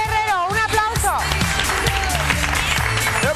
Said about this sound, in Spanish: Miguel Herrero, un aplauso.